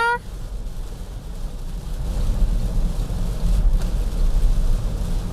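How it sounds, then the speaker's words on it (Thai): Heavy rain drums on an MG EP electric car driving on a highway between Bangna and Pattaya, a dense, loud roar of water and road rumble that swells and stays constant. "ตอนนี้ฝนมัน ตกหนักมากเลยเนี่ยมองไม่เห็นถนนเลยค่ะ"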